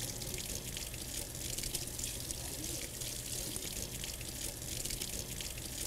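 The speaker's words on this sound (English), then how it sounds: "Now we're going to rinse it in warm tap water" A hemocytometer is rinsed under warm running tap water, giving a steady, moderately quiet stream of splashing water that runs without a break throughout.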